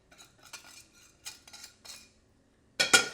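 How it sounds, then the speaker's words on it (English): A whisk clinks and scrapes against a pot as flour paste is worked into beef gravy for boeuf bourguignon, in short, intermittent bursts that end in a louder, rapid flurry of metallic scraping. "And then quickly whisk it around"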